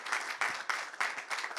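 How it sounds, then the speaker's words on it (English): Applause from a small audience at an awards ceremony, clapping in uneven bursts that swell and dip, moderately loud and without speech. "Round of applause, everyone."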